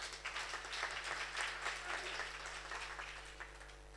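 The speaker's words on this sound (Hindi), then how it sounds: "आप अपने लिए भी ताली बजा सकते हैं भाई" Audience clapping at a workers convention in Chiniot, a steady, fairly faint wash of many hands heard from a distance over a constant low hum, with no voices.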